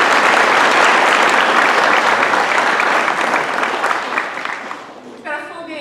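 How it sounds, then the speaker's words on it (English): An audience at a sustainability summit gives a big, sustained round of applause that gradually thins and fades, with a voice beginning to speak as it dies away. "So let's give him a big round of applause."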